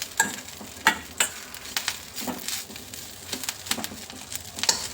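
Curry leaves fry in hot oil or ghee while a spoon stirs them, giving a steady close sizzle with scraping clicks and brief louder crackles and stirs across the pan.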